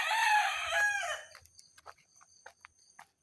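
A pet rooster crows loudly in the dark early morning, one long drawn-out call, followed by scattered faint clucks and clicks from the flock nearby.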